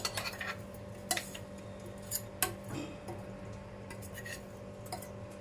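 Ground spice mix tipped into a glass bottle for pickle, heard as a few light clinks and soft scraping taps of spoon against glass, with faint gritty pouring between, close and quiet.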